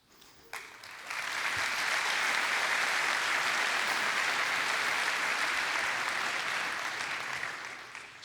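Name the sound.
audience applause at a conference keynote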